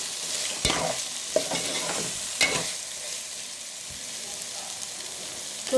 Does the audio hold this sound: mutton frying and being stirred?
yes